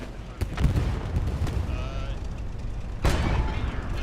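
Self-propelled artillery in a tank-battle video game fires rounds toward the distance, sharp booms at the start and again near the end over a continuous rumble of battlefield noise, with a voice talking faintly underneath.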